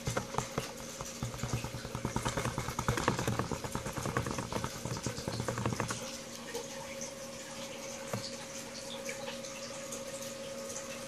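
A gold pan being worked in water while reviewing paydirt: rhythmic sloshing and swishing for the first few seconds, then quieter trickling and faint splashes.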